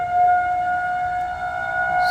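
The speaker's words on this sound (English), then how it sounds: "those are tornado sirens" A steady wailing tornado siren tone holds a constant pitch throughout, sounding from a distance with no voices.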